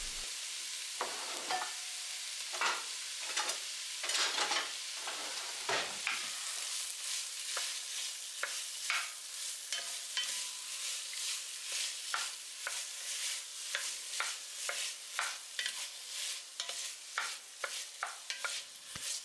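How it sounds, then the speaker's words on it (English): Sausage and vegetables fry in butter in a pan, a quiet steady sizzle broken by frequent soft scrapes and taps of a stirring utensil, close and fairly faint, with no voices. "You will continue to cook your sausage and your vegetables in your butter"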